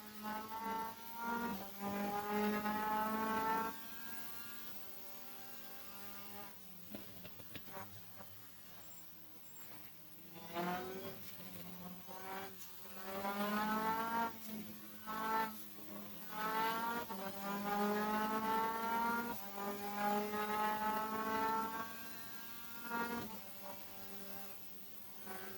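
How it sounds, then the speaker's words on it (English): Race car in the 2024 AMS MCR Championship at Oulton Park, its engine climbing through gears at full throttle with rising harmonic sweeps, brief lifts between shifts, loud and close throughout from onboard. "Full throttle on this section, braking to Druid's corner."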